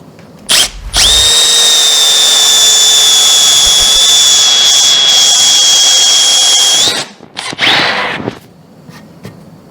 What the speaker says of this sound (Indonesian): Apakah mesin brushless dari Milwaukee yang cuma 12 volt ini bisa digunakan untuk mengebor menggunakan mata bor kipas